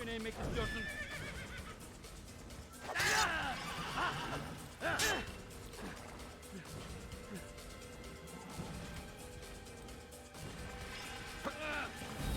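A horse in Assassin's Creed whinnies loudly twice, amid clashing, hoofbeats and battle noise, with someone talking throughout.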